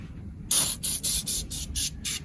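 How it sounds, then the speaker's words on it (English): A rapid series of about seven close spray bursts of cleaner onto car battery terminals, sharp hissing pulses with brief gaps, over a low background hum. "Spray it pretty liberally."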